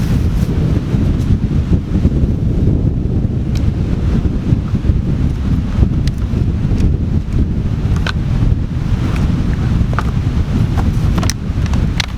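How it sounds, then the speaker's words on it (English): Steady, heavy wind blasts across the microphone outdoors by the River Slea, a constant low roar with occasional sharp crackles. "It's quite windy"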